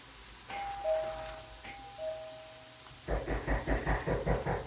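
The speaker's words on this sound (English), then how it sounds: "I'm gonna go ring the doorbell." A doorbell chimes twice with two-tone ding-dongs, then a rapid, pulsing buzz or rattle starts and repeats steadily until the end.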